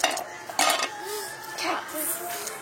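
Metal pots and pans clatter and clink together nearby as they are sorted into place, sharp bright knocks with ringing tones between them and no talk.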